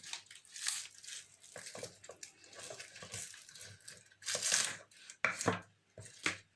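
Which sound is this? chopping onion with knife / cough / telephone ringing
chopping onion with knife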